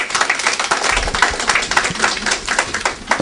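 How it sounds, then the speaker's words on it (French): Applause at a political meeting of the RDR party diaspora in New York, dense rapid clapping from a small crowd, loud and close, with no voices. "M. Inza Camara, que je vous demande d'applaudir."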